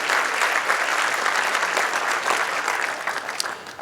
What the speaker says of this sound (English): Let's give a big hand of applause for our volunteers